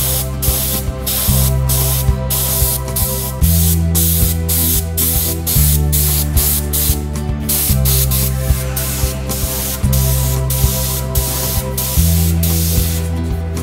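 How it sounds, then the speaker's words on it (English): A spray gun applying leather dye hisses in short repeated bursts over a low steady compressor hum, the bursts coming in a regular on-off rhythm. "put it in a small spray gun, and do extremely light coats over the leather"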